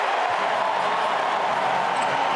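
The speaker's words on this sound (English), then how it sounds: "Listen to the crowd." A basketball arena crowd roars steadily during a Perth Wildcats game, a dense, sustained wall of cheering that fills the space without any break, loud and continuous.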